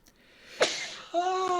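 A single sharp sneeze bursts out close to the microphone, then a brief voiced sound follows.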